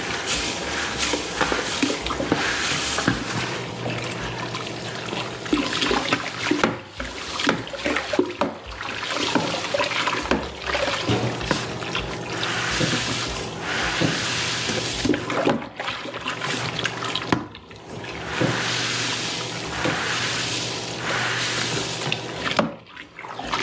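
Water from a beer mash circulates continuously during Pilsner brewing, a steady, close rushing and splashing flow that keeps going for over twenty seconds with small surges and dips.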